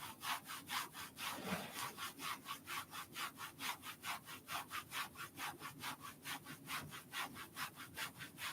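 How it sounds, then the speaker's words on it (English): Hands rub briskly up and down cotton pants during a qigong self-massage, a fast regular swishing friction stroke repeated around three times a second, close and fairly quiet, with no talk. "All of this rubbing on my cotton pants is slowly tearing them apart."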